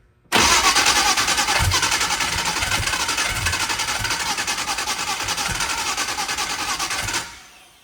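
Gasoline engine cranking and catching, a loud sustained mechanical roar that starts abruptly, holds steady with a slight pulsing rhythm for about seven seconds, then cuts off.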